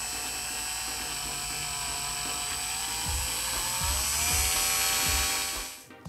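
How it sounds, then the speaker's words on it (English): A Tamiya CC-02 RC car's electric motor runs on the bench, putting out a steady high electric whine with small shifts in pitch. It cuts off abruptly near the end. "the speed controller and motor works and everything turns in the right direction"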